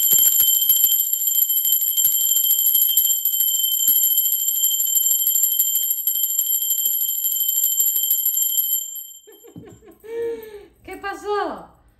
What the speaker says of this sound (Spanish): Aprovecha en ese momento de la campana, el sonido es un sonido de alta frecuencia